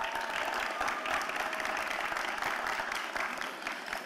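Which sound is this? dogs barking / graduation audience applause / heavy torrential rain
graduation audience applause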